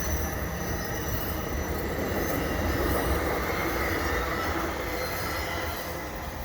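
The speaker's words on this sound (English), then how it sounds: "Oh, here comes an AMT train." An EXO commuter train with an ALP45DP locomotive passes near the St John's Blvd overpass in winter, its wheels squealing in a steady, loud metallic whine over continuous rumbling rail noise for the whole stretch.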